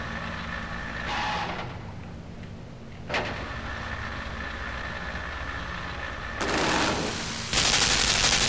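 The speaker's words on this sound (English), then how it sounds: "Another gun." Gunfire from a gun in the side-scrolling video game LIMBO: a sharp broadband burst near the 3-second mark, followed by loud, sustained rattling bursts of noise over a steady low mechanical rumble toward the end, with no talk.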